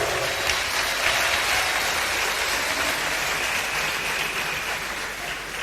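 Steady, dense applause from an audience filling a hall at a political gathering, broad and sustained at an even level throughout.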